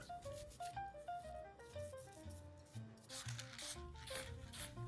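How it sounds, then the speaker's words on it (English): Scrubbing the handle of a painted Art Deco furniture piece with window cleaner, a steady close rubbing and rasping with quick back-and-forth strokes that grow harsher toward the end, over faint background music. "Got just a basic window cleaner here. Using to scrub this."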